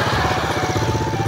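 A motorcycle engine runs at a steady, throbbing mid-pitched rhythm during a night ride in the Philippines, loud and close, with no voices over it.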